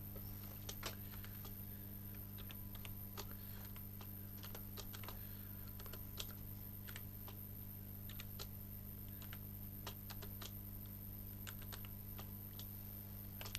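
Quick, light taps on a computer keyboard as a spreadsheet formula is entered, in irregular bursts over a steady electrical hum in a quiet room.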